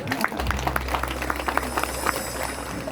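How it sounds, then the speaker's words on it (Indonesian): Audience applause at an event featuring Ki Asep Santana and Habib Umar Assegaf, steady scattered clapping over a low hum, moderately loud across the whole stretch. "Tepuk tangan dulu atuh."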